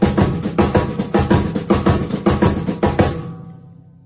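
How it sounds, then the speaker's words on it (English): A drum kit plays a basic samba marcha groove, steady repeated hits with a bright cymbal or shaker layer over low drum thumps, close and loud, stopping and ringing out at the end. "this is a samba pattern, just a basic samba, what's called a samba marcha"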